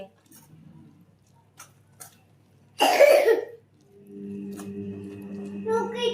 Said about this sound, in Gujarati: ચોકલેટ ખા ને એટલે જ ઉધરસ આવે છે